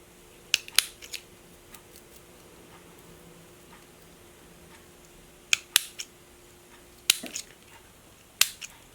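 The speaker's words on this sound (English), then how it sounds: "start cutting the sequins away from the seam allowance" Nippers snipping sequins away from a seam allowance on sequin fabric, sharp little clicks in small clusters separated by quiet pauses, close and crisp.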